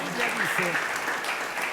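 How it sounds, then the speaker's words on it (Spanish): A church congregation applauding, a fairly short burst of clapping at moderate level with a voice speaking over it. "Den un aplauso fuerte al Señor, hermano."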